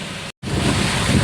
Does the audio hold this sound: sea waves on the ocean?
yes